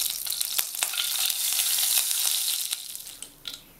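Black cumin seeds sizzle in hot oil in a wok, a bright crackling hiss with sharp spattering pops that swells and then fades away.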